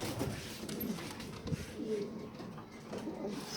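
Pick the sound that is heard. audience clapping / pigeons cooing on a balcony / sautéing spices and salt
pigeons cooing on a balcony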